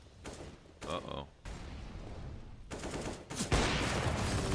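Rapid automatic gunfire from MP9 submachine guns in a Counter-Strike match on Mirage, loud bursts fired around a ramp position, mixed with other weapon noises and game effects under a dense, busy soundscape.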